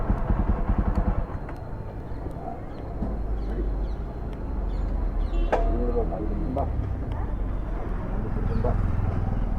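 A motorbike engine idles steadily at close range with a low, continuous rumble, its idle running slightly low, while people talk nearby over it.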